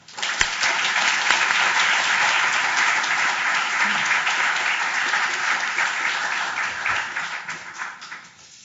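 A lecture audience applauds to welcome a law professor giving the Harris Lecture. Dense, loud, sustained clapping fills the room and tapers off near the end.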